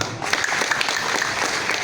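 Audience applause at a university support gathering, a steady, dense wash of many hands clapping continuously and fairly loud, with no voice rising above it.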